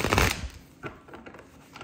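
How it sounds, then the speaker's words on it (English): Tarot cards being shuffled by hand, a loud rapid riffle at the start followed by softer scattered flicks and taps, close up with no talking. "Let me just get one more shuffle."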